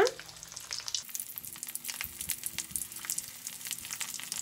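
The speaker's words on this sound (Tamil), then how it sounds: "எண்ணெயும் நல்லா சூடாயிருச்சு. நம்ம ஒவ்வொரு உருண்டையும் போட்டு எடுத்துக்கலாம்." Mutton kola balls frying in hot oil, giving off a quiet, continuous crackling sizzle with no talking.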